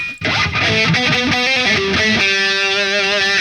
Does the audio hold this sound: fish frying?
no